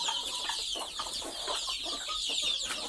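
A free-range country hen clucking in a steady stream of agitated calls while guarding her chicks in a poultry enclosure, close by over a constant hiss of background noise.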